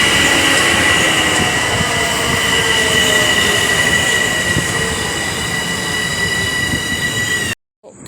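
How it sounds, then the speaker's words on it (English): An M7 commuter train pulls into a station, its steady rumbling roll overlaid with sustained high-pitched wheel squeals throughout, loud and close, ending abruptly. "A little rail fanning, so with this train pulling here."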